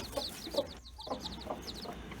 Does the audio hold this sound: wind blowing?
no